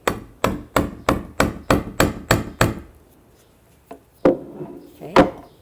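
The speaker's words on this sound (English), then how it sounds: "I'm going to take the hammer and I'm going to hammer just a couple times gently so that the awl goes through" A hammer taps an awl through cardboard in a quick run of nine evenly spaced, sharp knocks, followed after a pause by three scattered, slightly heavier strikes.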